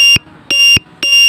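A LiPo battery voltage alarm buzzer on an RC model sounds its low-voltage warning as three loud, sharp electronic beeps in a steady rhythm, close and alone.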